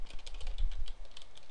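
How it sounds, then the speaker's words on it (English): Rapid, steady clatter of keys on a computer keyboard as text is entered in capital letters, close and fairly loud, with no talk. "I'm typing it all in capital letters."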